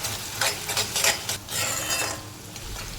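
Onions and split green chillies sauté in a pan, stirred with a spoon, giving scraping strokes over a bright close sizzle.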